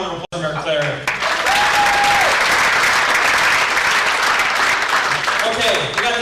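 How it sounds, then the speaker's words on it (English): A gala audience breaks into loud, sustained applause for Mayor Claar, a dense wash of many hands clapping that fills the room for several seconds after a brief voice. "How about one more round of applause for Mayor Claar?"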